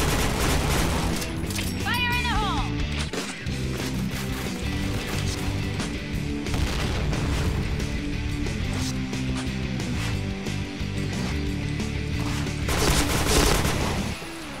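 Gunfire in a first-person shooter game, loud rapid bursts and fusillades running almost continuously at close range, with a brief talking voice mixed in.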